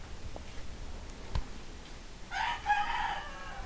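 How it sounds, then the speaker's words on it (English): A rooster crows once near the end, clear and fairly close, after a few faint ticks and clucks in a quiet room. "There's my rooster."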